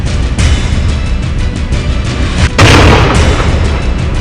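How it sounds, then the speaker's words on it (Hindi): A single powerful boom from a 5:30 a.m. gunfight with a militant in Budgam, Kashmir erupts past the midpoint and rumbles on, after a stretch of dull continuous background noise. "तीसरा धमाका"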